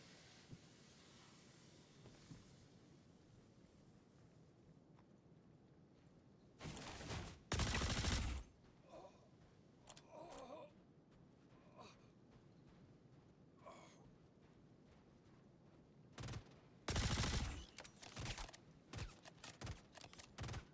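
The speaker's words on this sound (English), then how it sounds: "Okay, who else is shooting us now?" Gunfire in the space sim game Star Citizen: two loud, dense bursts of shooting, one shortly before the midpoint and another near the end, with quieter clanks and mechanical creaks between them and no talking.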